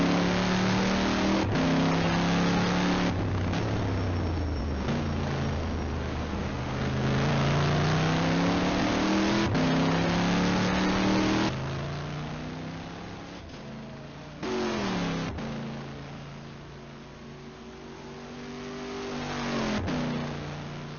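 A Corvette race car on a virtual Le Mans circuit during a 12-hour endurance event, its engine roaring loudly and steadily, climbing through gears with brief drops at upshifts, fading slightly and then rising again, with no talk.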